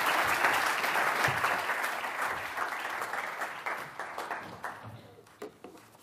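An audience applauds to welcome lecturer Julian Allwood, a dense, even clapping that starts full and slowly thins into scattered claps toward the end.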